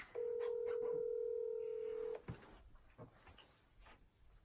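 A single telephone keypad tone sounds loud and steady for about two seconds, followed by faint scattered background noises.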